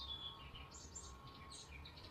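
Small birds chirp outside on a balcony, faint scattered high tweets over soft background noise, with no one speaking.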